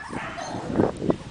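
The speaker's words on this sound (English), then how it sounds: "This is a good play for puppies." Bichon puppies give short high yips and whimpers, two brief bursts standing out close to the microphone against a soft indoor background.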